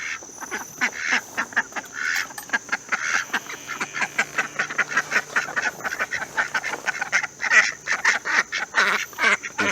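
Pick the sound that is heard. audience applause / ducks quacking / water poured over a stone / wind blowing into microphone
ducks quacking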